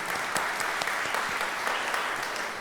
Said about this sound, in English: We can applaud everybody.